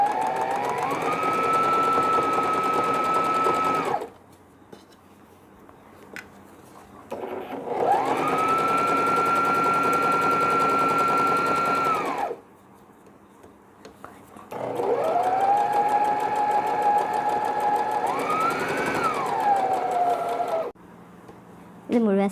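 A sewing machine runs a running stitch on a stretchable foam baby knee cap in three long motor bursts, each a few seconds long with pauses between, with a rising whirr and a steady close hum.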